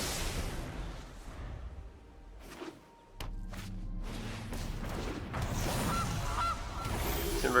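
Goose honks from the Gilded Goose card in the MTG Arena digital card game, a few short honking calls standing out among game sound effects and a dense background mix.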